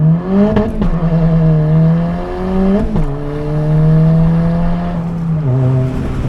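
A car engine revs hard under full throttle in second gear, pitch climbing steadily, with brief dips at gear changes before climbing again, loud and close.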